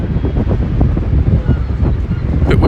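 Steady, loud wind buffets the microphone with a continuous low rumble, gusting throughout.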